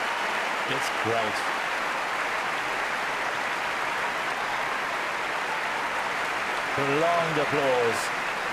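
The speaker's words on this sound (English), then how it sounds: "Prolonged applause." Sustained crowd applause fills the stands at a Wimbledon 2013 women's semi-final, a steady broad wash of clapping at even loudness throughout, with brief voices breaking through near the start and toward the end.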